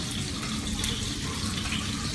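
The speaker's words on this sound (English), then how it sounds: "And then drop it slowly in the water." Running, sloshing water fills a sink or container as a zip-top bag of meat is lowered slowly into it for camp meal preparation, a steady, close wash of liquid.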